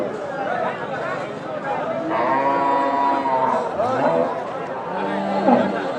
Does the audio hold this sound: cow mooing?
yes